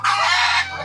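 A single short, loud burst from a nearby chicken, a raspy clucking squawk lasting about half a second at an old family house.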